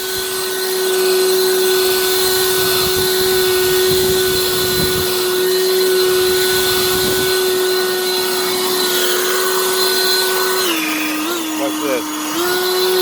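A Harbor Freight Lynxx 40V lithium cordless leaf blower runs loud and close, a strong steady whine that holds for most of the clip, then drops in pitch near the end as a voice talks over it.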